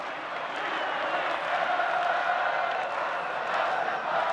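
Flamengo supporters cheer their team during a 2010 Brazilian championship football match against Cruzeiro, a continuous distant crowd roar with gently swelling waves of voices.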